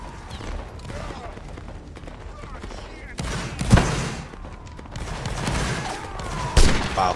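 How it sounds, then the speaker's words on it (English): Musket volleys crackle in a Napoleonic Wars battle game, a steady din of distant shots broken by two loud close bangs, with faint voices in the background. "They're shooting at us."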